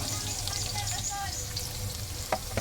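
Garlic frying with ginger in a pan, a continuous close sizzle with occasional crackles and a soft stirring scrape near the end, a voice speaking faintly underneath.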